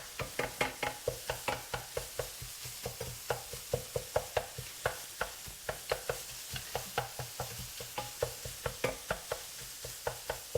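Milk is being mixed into a sausage egg breakfast casserole with quick, rhythmic strokes of a utensil tapping and scraping against the dish, steady and close, with no talking.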